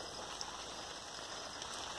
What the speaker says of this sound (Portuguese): da chuva que está começando a gotejar